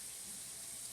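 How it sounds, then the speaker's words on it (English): Water runs steadily from a kitchen sink faucet, a close, even hiss that holds unbroken without voices. "I've got some water running in the sink"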